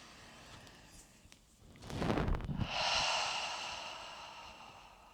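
Slow, deep breathing during a seated energy-medicine chair yoga routine, a long breathy inhale swelling into a broad airy exhale, close and loud in an otherwise quiet room.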